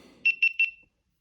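A GoPro Hero 11 action camera startup chime: three quick bright beeps in a rising pattern, clear and close, then silence.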